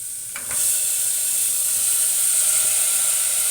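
Pieces of peeled, cut jackfruit seed drop into a hot pan with a brief clatter, then a loud, steady sizzle and hiss carries on without pause.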